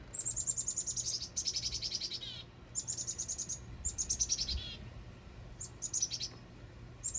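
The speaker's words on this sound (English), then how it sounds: "Oh, hello, black cap chickadee." Black-capped chickadees calling outdoors, repeated bursts of high, clear chirping notes in quick series with short pauses, moderately near over a faint insect-like background hum.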